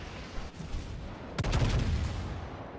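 A distant boom precedes a sharp, heavy burst of cannon fire with rumbling echoes from the battleship Gneisenau's guns in World of Warships.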